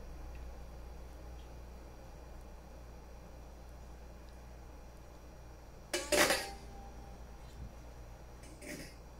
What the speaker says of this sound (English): we're going to be nice and quiet so that you can hear the cut